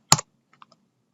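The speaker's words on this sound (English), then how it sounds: "So I'm going to hold down shift while I'm typing." A few clicks of computer keyboard typing: one louder keystroke followed by three faint, quick taps, close and isolated in a quiet room.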